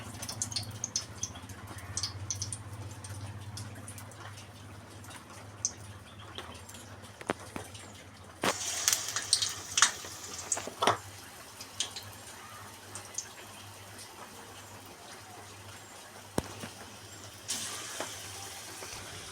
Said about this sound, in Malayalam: എണ്ണയായിട്ടുണ്ട് നമുക്കിനി വട റെഡിയാക്കി ഇട്ട് കൊടുക്കാം